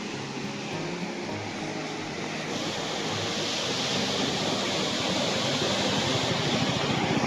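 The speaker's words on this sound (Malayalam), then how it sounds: "ഭയങ്കര ശക്തമായിട്ടാണ് കേട്ടോ വെള്ളം ഒഴുകുന്നത്. ആ ഷട്ടർ തുറന്നിട്ടുണ്ട്." Swollen river water from heavy rain rushing powerfully through an open dam shutter, a steady, loud roar of churning water that continues without a break and builds slightly in force.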